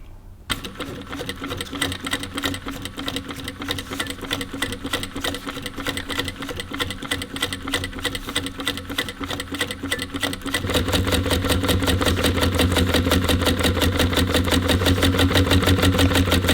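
A sewing machine stitches windlace for a 1954 Ford Mercury Monterey Sun Valley, running loud and close in a fast, steady mechanical rattle that grows heavier and fuller for its last several seconds, with no talk over it.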